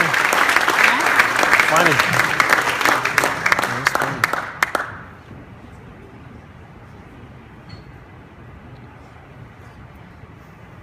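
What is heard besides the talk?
audience applause for Hall of Fame inductees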